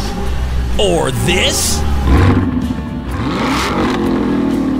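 A car engine revs hard through a loud exhaust, with rising and falling revving sweeps and a deep roar in two bursts, while a voice speaks briefly over it.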